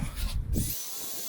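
A power drill boring a hole whirs briefly, loud and close, its bit burning, then cuts out, leaving a low steady hum.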